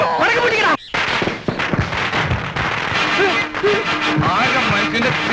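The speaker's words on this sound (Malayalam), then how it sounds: "ആകെ മനുഷ്യന്റെ ചെവിട്ടിലേക്ക് പടക്കം പൊട്ടിക്കണേ." Firecrackers burst loudly nearby in a quick irregular series of sharp bangs and crackles, with voices talking through the noise.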